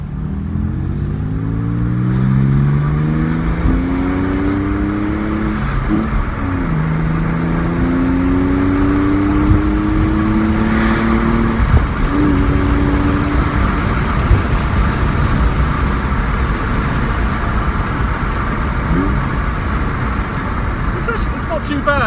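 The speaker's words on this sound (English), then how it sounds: "So what I mean by on is with the sports exhaust switched on." A Porsche engine with the sports exhaust switched on revs up repeatedly in rising sweeps, then settles into a steady idle-like drone. It is loud and close throughout, with someone talking over it.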